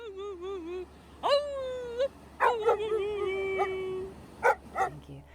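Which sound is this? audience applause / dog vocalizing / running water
dog vocalizing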